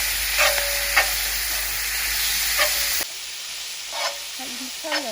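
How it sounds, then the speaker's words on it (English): Lamb keema with spices and turmeric sizzling in hot oil as it is stirred, a steady frying hiss broken by occasional scraping strokes of the spoon. "Now, keep stirring."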